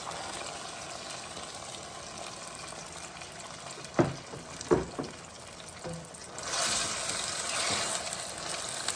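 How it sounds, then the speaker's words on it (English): Marinated pork drops into a hot pan on high heat for a stir fry with peppers, a few thuds and clatters followed by a rising, steady sizzle close by. "we're going to drop in our sauteed pork, marinated pork"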